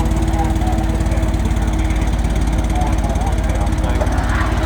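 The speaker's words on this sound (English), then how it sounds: "That tractor will have no trouble pulling the sled through to that end" A big vintage tractor engine from the 1940s-era horsepower race runs loud and steady at a rally tractor pull, its continuous low drone with regular pulsing filling the whole stretch, with a voice talking over it.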